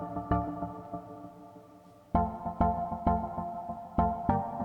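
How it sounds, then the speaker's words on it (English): Two layered synth plucks play together in a chill dance beat, a soft sustained tone followed by a run of sharp, bright plucked notes in a steady rhythm, heard alone. "So when we play them together, this is a new pluck."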